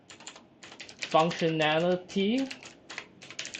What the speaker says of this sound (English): So let me start by typing my prompt here